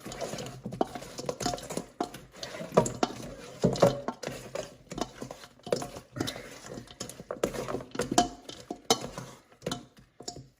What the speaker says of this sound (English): Let me use this spoon to help toss it.